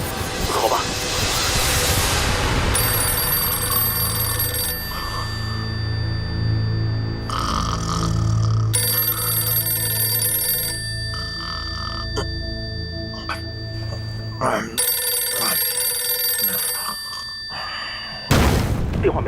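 An old telephone rings on and on without being answered in a wartime command post during the battle of Matang fortress: repeated bright, tinny bell bursts over low rumbling background and music, with a short pause partway through.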